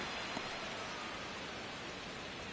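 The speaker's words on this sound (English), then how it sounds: "It feels like we might be headed towards a rain delay if the weather doesn't ease up, Chris." Steady, even rain hisses over a ballpark in a baseball video game, a dense wash of falling drops with no individual hits standing out and no voices.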